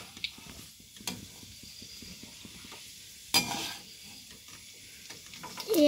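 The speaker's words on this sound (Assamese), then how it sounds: "তেল গৰম হৈ গ'ল। এতিয়া মই পাপৰ দি দিছোঁ।" Papad frying in hot oil gives a soft, continuous sizzle with scattered crackles and occasional louder pops and stirring clicks, close by and without speech.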